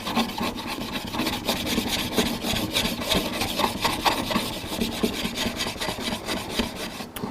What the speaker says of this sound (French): on repasse à la pierre, la petite pierre à eau là pour démorfiler